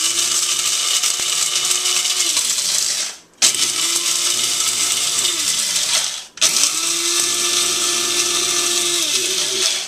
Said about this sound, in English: Put on the coffee grinder.